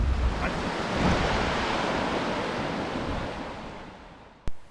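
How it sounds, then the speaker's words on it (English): A vehicle fords a water crossing on an overland trail: a loud, broad, steady rush of churning water and wind that slowly eases, ending with a short sharp thump. "That's a water crossing."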